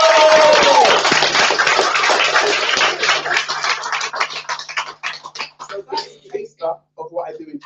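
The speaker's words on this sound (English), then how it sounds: "And if you liked it, then you can clap." An audience claps after a rap performance. The applause starts as a loud, dense wash and thins over several seconds into scattered individual claps that fade out.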